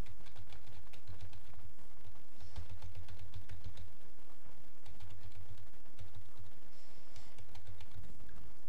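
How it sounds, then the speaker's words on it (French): Steady typing on a computer keyboard, a continuous run of close, crisp key clicks in quick uneven rhythm with brief pauses, alone and clear. "je tape mon texte"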